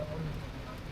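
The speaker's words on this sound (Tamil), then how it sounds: "பயங்கர மழை பெய்து கொண்டிருக்கு" Heavy rain pours down steadily on a road near Keppetipola town, a dense, even hiss with no breaks, close and moderately loud throughout.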